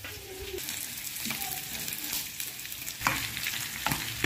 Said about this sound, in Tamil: நான் இந்த சிக்கனை நான் அப்படியே ஃப்ரை பண்ணி எடுத்துக்கிறேன்